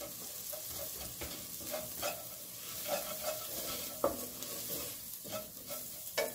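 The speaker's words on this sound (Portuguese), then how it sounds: "Ainda está refogando a cebola" Onion sautéing in a pan for a tomato sauce, a steady close sizzle with frequent scraping and stirring taps of a utensil against the pan.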